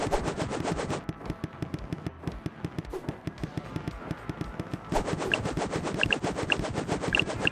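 Rapid automatic weapon fire from the video game Her Name Was Fire, a dense, steady stream of close, loud shots with a brief lull in the middle before the burst picks back up.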